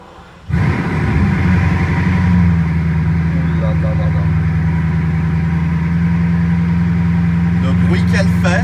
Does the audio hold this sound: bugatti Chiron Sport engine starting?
yes